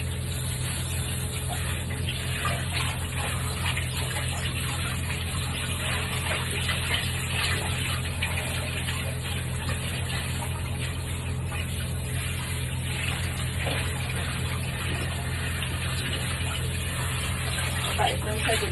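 Shower water runs steadily in a bathroom, a constant broadband hiss and spray that lasts throughout, with faint voices in the background.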